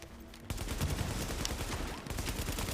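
Automatic machine-gun fire in the video game The Division rattles steadily and loudly through most of the stretch, with a sharp onset partway in and a short dip before the bursts resume.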